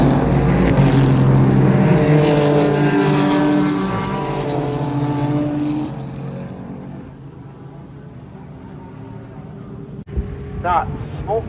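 Race cars at Laguna Seca raceway roar hard through an overtake, a loud sustained engine drone with shifting harmonics that fades and recedes into a lower rumble, with voices talking over it.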